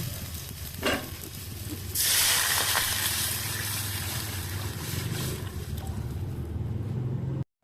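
Onion and garlic sautéing in a pan beside pot of broth coming to a boil: a knock, then a loud burst of sizzling that settles into a steady hiss and crackle close by, continuing for several seconds without talk.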